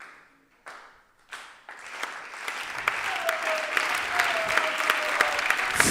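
An audience at a comedy clash show breaks into applause for the first comedian, starting with a few scattered claps and building into steady, loud, dense clapping with crowd noise and a faint whistle-like tone.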